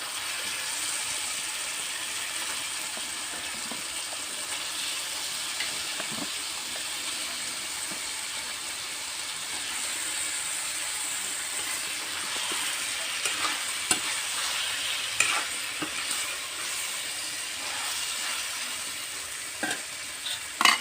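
Chicken curry meat frying in spice masala while being stirred, a steady broadband sizzle running throughout with scattered utensil scrapes and clinks, close and fairly loud, no voices.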